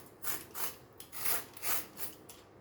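Outer skin of a bitter gourd (karela) scraped with a blade, a series of about six rhythmic, rasping strokes, close and fairly quiet, with no talking.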